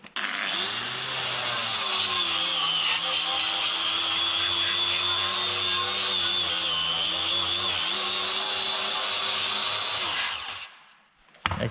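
A coral grinding disc on an angle grinder strips rust from a metal surface with a steady, loud, high-pitched grinding whine that runs continuously for about ten seconds, then winds down.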